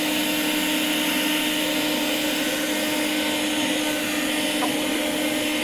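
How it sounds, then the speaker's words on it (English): A leaf blower drones continuously and loudly at steady pitch, used as the driving engine in a torque converter demonstration, with no break across the stretch. "So this leaf blower is the engine."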